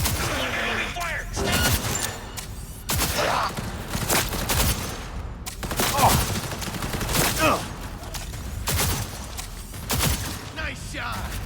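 Repeated gunfire in Cyberpunk 2077, sharp bursts of shots firing in irregular clusters across the scene, loud and close, with some voices mixed in.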